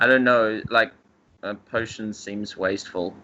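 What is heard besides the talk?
None of the usual background noises is heard.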